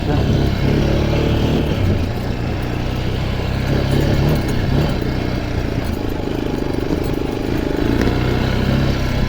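A Geon Light 250 motorcycle ridden through a snowy forest, its engine droning loud and steady throughout with rumbling wind and road noise, close to the rider.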